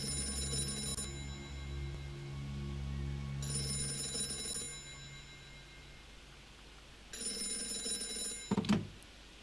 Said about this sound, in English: That phone is about to ring.